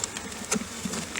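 Honeybees buzzing faintly and fairly close while a bee package is installed, a soft steady insect drone with a few brief louder passes, no talking.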